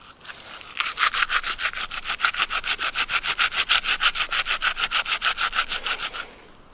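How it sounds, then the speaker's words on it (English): Piece of campfire wood rubbed back and forth on a damp rock to break it up, a steady run of about thirty rhythmic rasping strokes, close and loud, with no talking. "I'm just going to break it up by rubbing it on the rock"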